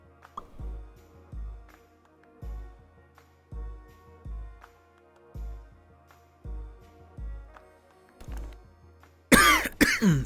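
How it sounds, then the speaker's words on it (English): Repeated coughs and throat clearing from one person, a steady series of roughly eight bursts with short pauses between them, close and moderately loud, ending in a louder noisy burst. "Still have a slight lingering cough."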